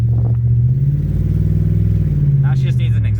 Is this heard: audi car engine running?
yes